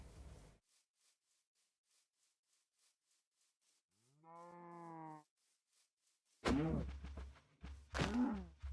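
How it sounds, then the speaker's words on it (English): In the Minecraft modpack Sevtech Ages, a cow gives a single drawn-out moo amid near silence, followed by loud, clattering hit and scuffle sounds as the cows are attacked. "On a mad murderous rampage, killing all the cows."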